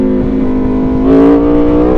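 Aprilia Tuono V4 motorcycle with a short exhaust revving close to the microphone, a steady loud engine drone that rises in pitch for a moment, with deep exhaust pops.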